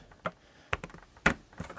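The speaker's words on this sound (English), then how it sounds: "let's do one more shuffle, just to prove I can do it." Tarot cards shuffled and cut by hand, a few sharp papery riffles and taps spaced irregularly, close and fairly quiet with no talking.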